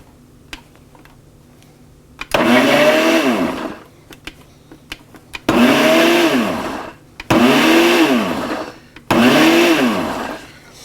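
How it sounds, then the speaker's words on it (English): Blender pulsing four times to mince a garlic clove, each burst a loud whirring roar of about two seconds separated by short pauses, with no talking. "I am going to pulse this long enough to get that garlic clove nicely minced"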